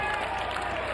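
NC State Wolfpack baseball fans cheer at an NCAA tournament game against James Madison, late in the eighth inning: a dense, loud, continuous crowd roar and clapping with no break.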